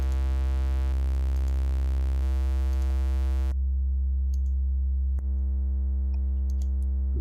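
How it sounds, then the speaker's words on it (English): A steady synthesized sine bass from an Elektor Formant DIY synth in Voltage Modular drones loudly with sustained harmonics, its tone shifting a few times, with faint ticks scattered over it. "The sine wave brings a lot of energy"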